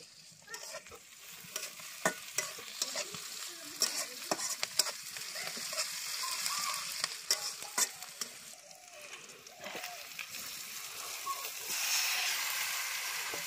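Onions sizzling and frying in a pan on a village gas stove, with steady hiss and frequent stirring scrapes and clinks, close up for the whole stretch and rising slightly toward the end.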